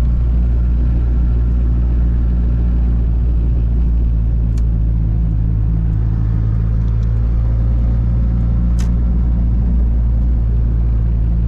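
A turbocharged Volkswagen Voyage cruises along, its engine holding a steady, loud low drone with a constant road rumble and no talking.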